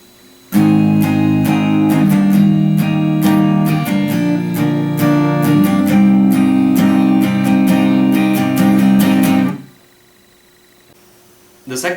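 An acoustic guitar strums the chords of a song in a steady down-up pattern, loud and close for about nine seconds before stopping abruptly into near silence.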